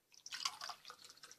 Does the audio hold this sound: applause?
no